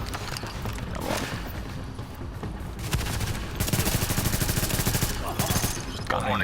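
Rapid bursts of automatic gunfire from a shooter game, Tom Clancy's The Division, dense and continuous over a busy background, with a sharper sustained volley toward the end.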